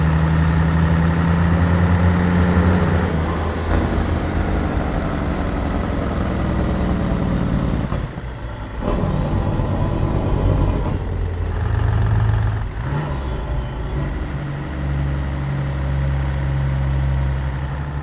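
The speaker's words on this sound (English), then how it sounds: "Now you can hear this truck in all her glory." A truck fitted with a Zeemods CAT 3406E diesel engine in a trucking video game, idling with a deep steady rumble and a whining tone, the engine note dipping and rising briefly a couple of times.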